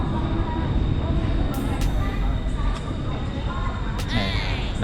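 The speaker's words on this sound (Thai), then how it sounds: "ตอนนี้ถ่ายรถก่อนรถกำลังมา เห็นบ่รถไฟกำลังมาละเห็นปะ" Bangkok MRT train pulling into an underground station, a continuous loud rumble and rush of wheels and air with a few brief higher squeals, close to the platform.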